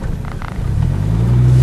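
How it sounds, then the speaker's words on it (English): A 1990 Mercedes-Benz 300D 2.5 diesel engine idles with a steady low rumble and hum, growing slightly louder and fuller toward the end, heard close from inside the car. "Here's the vehicle idling."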